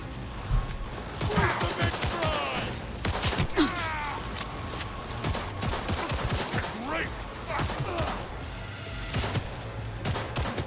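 Gunfire from a silenced weapon in Cyberpunk 2077 in Night City, with repeated muffled shots and bursts throughout amid game effects, under a man's speech and groans.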